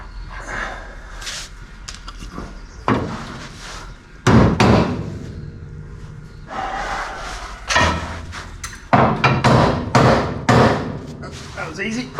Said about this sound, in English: Might knock this off its taper first.